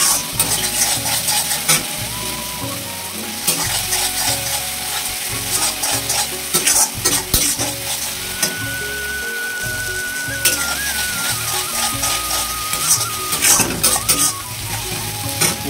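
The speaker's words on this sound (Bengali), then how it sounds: "মশলা কষানো আমাদের হয়ে গেছে" Spices frying and being stirred in an iron wok, a loud continuous sizzle with rhythmic metallic scraping and clanks of the spatula against the pan, close up and with no talking.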